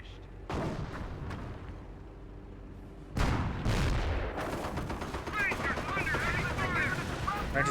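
Rapid bursts of rifle and machine-gun fire from a Company of Heroes battle between Panzer Elite and US forces, crackling loudly in overlapping volleys that swell sharply midway and stay dense to the end.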